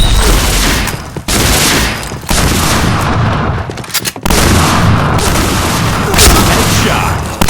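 Shotgun fire in the video game Point Blank, with loud, dense blasts that follow one another almost without a break and only brief gaps between volleys, over a voice in the background.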